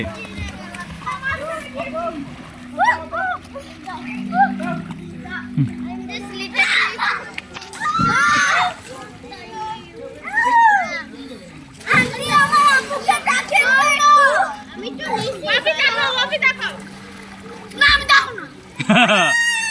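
Children play and splash in a swimming pool as a child dives under the water, with bursts of splashing among lively kids' voices and an adult calling encouragement throughout.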